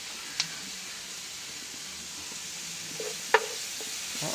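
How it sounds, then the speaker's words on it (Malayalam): Crushed onion, garlic, ginger and green chilli saute in a pan for Kerala-style pepper fish fry, a soft, even sizzle broken by a couple of brief utensil clinks, close and with no voices. "പച്ചമണമൊക്കെ മാറുന്ന ഇടം വരെ നല്ലപോലെ വഴറ്റുക"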